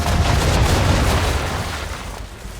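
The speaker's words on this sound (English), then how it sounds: "Bring around broadside, and when all guns are on target, call fire" Naval ship cannons firing a broadside in the Assassin's Creed 3 video game: a loud, dense rumbling roar of blasts that fades gradually over a couple of seconds, with no voices.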